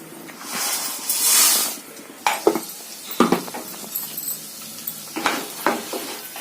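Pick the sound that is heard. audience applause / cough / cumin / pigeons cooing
cumin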